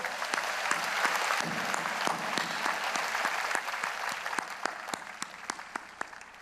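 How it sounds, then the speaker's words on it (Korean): A large church congregation at a Korean Easter union worship service applauds in agreement, steady crowded clapping with distinct sharp individual claps standing out, continuing evenly for several seconds. "우리 모두 동의하는 마음으로 박수로."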